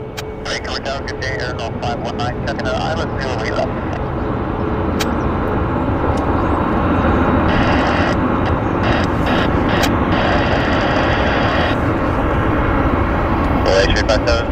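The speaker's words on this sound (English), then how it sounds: "Air Canada Flight 64. It's a Dreamliner right there." An Air Canada Boeing 787 Dreamliner heavy from Incheon at Vancouver airport gives off a steady, loud jet roar that holds throughout, with a voice talking over it.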